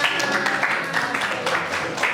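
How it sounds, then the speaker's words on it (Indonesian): Students in a classroom clap together, a short burst of rhythmic hand claps from a small group, fairly close and moderately loud, with some murmuring voices mixed in. "Tepuk tangan."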